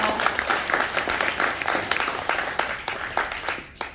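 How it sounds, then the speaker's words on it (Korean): Crowd applause at a gathering for disabled people's welfare in Cheongdo, a steady wash of many hands clapping for about four seconds, with no speech over it. "좋은 말씀 해주신 김학도 최고 교수님께 다시 한번 큰 박수 부탁드립니다"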